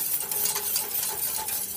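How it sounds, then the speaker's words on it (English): A spoon scrapes and stirs a thickening sauce in a pan over high heat, a quick continuous rhythmic swishing with light sizzling underneath, close up and with no voices. "I'm stirring for, I don't know, a couple minutes, and I did turn it on high"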